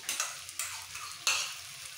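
Ginger paste going into a hot pan of oil for a katla fish curry with cauliflower, a faint crackling sizzle with a few soft stirring scrapes.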